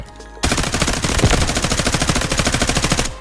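An M4A1 rifle set up for close quarters in the video game Delta Force fires a loud, sustained automatic burst of evenly spaced rapid shots after a brief quiet start, with no talking.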